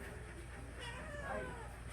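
A cat meows softly once or twice in a quiet indoor space, fairly faint.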